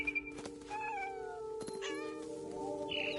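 A cat meows in What Remains of Edith Finch, a single drawn-out, wavering meow over a low background hum, clear but moderately quiet.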